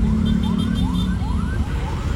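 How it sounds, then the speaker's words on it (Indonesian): An ambulance siren wails in a repeated rising sweep, close and loud, over the steady rumble of congested city traffic on the road toward Sultan Hasanuddin Airport. "kebetulan ada ambulans lewat."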